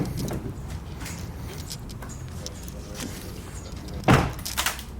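A car door swings shut with a single solid thunk near the end, a brief rattle of loose window-tint debris trapped inside the door following it, all under a quiet room hum.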